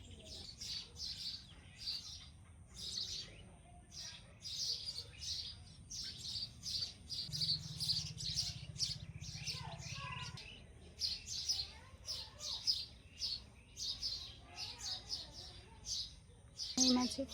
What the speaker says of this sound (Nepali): जङ्गल नजिकै भएको कारणले धेरै चराचुरुङ्गीहरूको आवाज आइरहन्छ